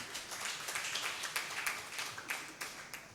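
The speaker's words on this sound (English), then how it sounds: "Another round of applause for the last speaker." Audience at a seminar applauding a speaker who has just finished, a moderate patter of claps from a smallish group that carries on unevenly, fairly close and without talk.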